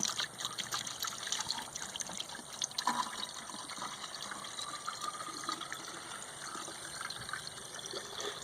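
Liquid trickles steadily into the engine of an LS-swapped Volvo 244, a soft continuous pouring and dribbling sound at moderate distance, with no talking.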